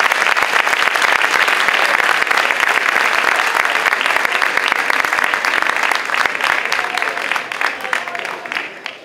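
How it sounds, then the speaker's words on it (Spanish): Sustained applause from a concert audience honouring award winners at a Santa Cecilia band concert in Marmolejo, dense loud clapping from a full hall that slowly thins out toward the end. "Un fuerte aplauso para ellos"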